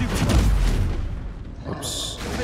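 A Confringo fire spell explodes in Hogwarts Legacy with a deep boom, followed by a brief, bright crackling burst, as a player voice calls out over the game sound.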